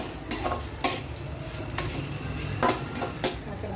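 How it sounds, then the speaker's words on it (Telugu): Ingredients for ginger chutney being stir-fried and pressed in a pan, steady sizzling with repeated scraping strokes of a spoon against the pan, close and clear with no talk. "ఇలా ప్రెస్ చేసుకుంటూ ఫ్రై చేసుకుంటే బాగా వేగుతుందండి."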